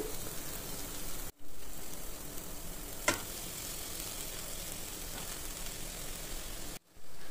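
Rinsed flattened rice (atukulu) is tipped into a hot frying pan and stirred, giving a loud continuous sizzle with scraping and clinks that cuts out twice; no one speaks.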